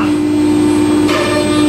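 A Biesse Rover 24 CNC router spins a half-inch two-flute straight bit at 18,000 RPM while cutting melamine, giving a loud constant high whine with a steady tone and a slight shift in texture partway through.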